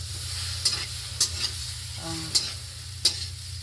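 An egg fries in a pan with little or no oil while a utensil stirs it, giving a low steady sizzle with several sharp scraping clicks spaced through it, close by and with no voices.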